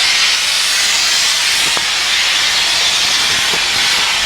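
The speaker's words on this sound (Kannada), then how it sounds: "ಸ್ಟೀಮ್ ನೋಡಿ ಹೆಂಗೆ ಹೋಗ್ತಾ ಇದೆ ಮೇಲಿಂದ" Loud, continuous steam hiss from a Darjeeling toy train steam locomotive, a broad sustained rush with faint metallic clanks underneath.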